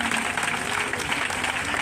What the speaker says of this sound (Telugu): అందరూ చప్పట్లు కొడుతూ మరి డాక్టర్ గారిని ఆహ్వానించుదామా.